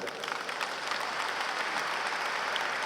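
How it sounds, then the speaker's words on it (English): Audience applause following a speech, a steady wash of many hands clapping at moderate distance, even and continuous with no voices over it. "Round of applause."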